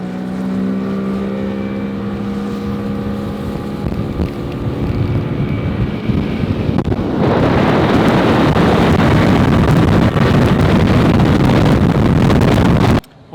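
A newly installed Mercury 50 hp outboard motor on a boat during a water test, its tonal engine drone rising as it revs, then a loud roar mixed with heavy wind and water rush once the boat gets up to speed.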